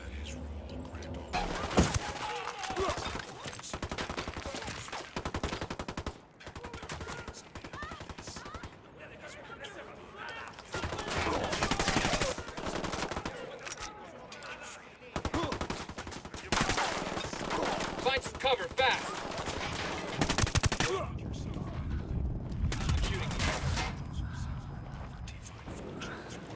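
Sustained gunfire bursts from the video game Ghost Recon: Wildlands, loud and dense across the whole stretch with brief gaps, mixed with game sound effects.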